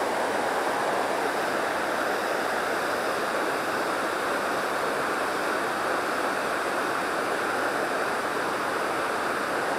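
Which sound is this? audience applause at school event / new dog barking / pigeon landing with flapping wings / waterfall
waterfall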